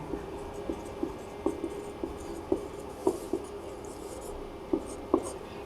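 A pen writes out a maths proof, scratching softly and intermittently on paper. There are short strokes and taps at an irregular rhythm, close and quiet over a faint background hum.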